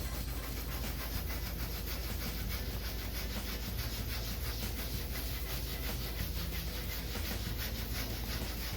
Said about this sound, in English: I'm gonna use this Scotch-Brite pad to kind of scrub at it.